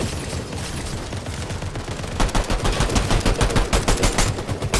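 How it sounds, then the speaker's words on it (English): Gunfire in an online battle royale video game, a rapid run of shots that turns into a sharper, rhythmic automatic burst halfway through, with no talk over it. "Someone is shooting at us."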